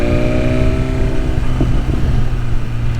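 A BMW S1000RR motorcycle fitted with a full exhaust drones steadily and loudly while being ridden on the road, its engine note holding fairly even throughout.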